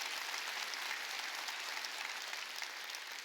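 Applause from a church congregation at a Wednesday worship service, a steady even wash of many hands clapping, moderately quiet and continuous with no voices over it.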